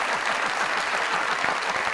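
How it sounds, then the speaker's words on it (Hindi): Studio audience applause at a comedy talk show, a dense continuous patter of many hands, loud and even throughout. "तालियां दो सर।"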